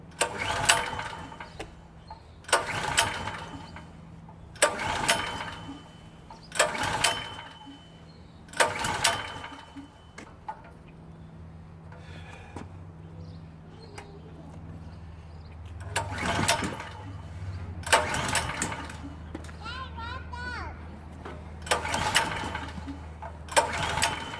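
A PowerSmart PS44 3000W generator is pulled repeatedly, each recoil pull a sharp sputtering burst, about ten attempts, before the engine catches and settles into a steady low running hum near the end.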